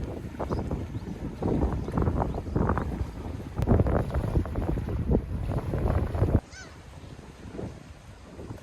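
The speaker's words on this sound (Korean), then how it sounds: "여기는 고기잡이 어선들이 제법 있어서 월산포보다 항구 분위기가 좀 더 나네요" Small fishing harbor with moored fishing boats and rough, fast-moving tidal water: continuous wind buffeting and water churning with low rumble, easing somewhat toward the end.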